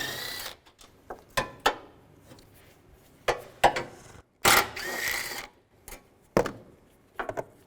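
Ratchet with a 10mm socket working radiator bracket bolts loose on a 2006-2011 Cadillac DTS, giving short bursts of clicking and metallic clatter separated by pauses, close and fairly quiet.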